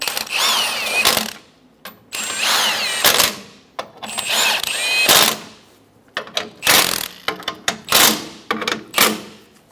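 Power tool driving the bolts of a new inner bumper bracket on a 2014-2018 Chevrolet Silverado 1500, in a run of loud, whirring bursts broken by short pauses, with rapid stuttering pulses toward the end.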